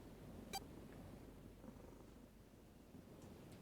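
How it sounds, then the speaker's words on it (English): A cat purrs softly and steadily close by, a low continuous rumble with one brief faint click partway through. "Is my cat purring louder than the audio right now?"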